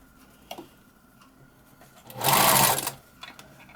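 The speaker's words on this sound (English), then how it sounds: "set it under my machine here, and start sewing this vine together" A sewing machine runs in one short, loud burst of stitching along a quilted appliqué vine, with quiet handling clicks before and after.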